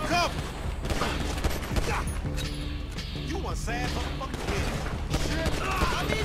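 Gunfight in Grand Theft Auto V, with dense bursts of game gunfire and crashes running throughout, loud and continuous, mixed with voices and game sound.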